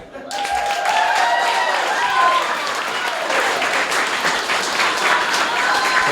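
Sustained applause from an audience at a literary reading series, dense steady clapping that begins abruptly and continues at full strength, with some cheering mixed in.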